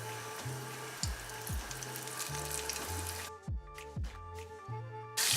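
Prawns sizzle and crackle steadily in hot oil for a po'boy sandwich, a close, continuous frying hiss with small pops and shifts as they settle in the pan.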